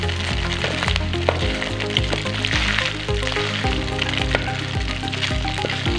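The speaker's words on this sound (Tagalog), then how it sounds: "ilalagay naman po natin ang ating citronella leaves dito sa kumukulong mantikilya ng niyog" Citronella leaves fry in boiling coconut oil with a steady, dense sizzle and crackle that holds throughout, close by, with no voices.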